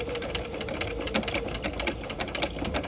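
A sewing machine stitches at a shortened 0.5 stitch length into the corner of a V yoke, running as a close, steady, fast rhythmic whir of needle strokes throughout with no talking.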